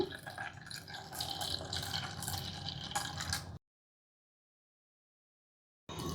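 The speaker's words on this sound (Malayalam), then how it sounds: "നമുക്കിതിനാവശ്യമുള്ളത്ര വെള്ളം ഒഴിക്കാം" Water poured into a pot for boiling down a strong herbal decoction, a continuous splashing pour for about three and a half seconds, then a silent gap and a brief resumption.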